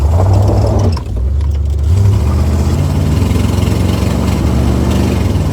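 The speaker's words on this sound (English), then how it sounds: "Yeah, that exhaust leak's horrible." An old Corvette engine running with a bad exhaust leak, a loud, rough, close-up rumble with a brief dip before settling back into a steady, chuffing idle.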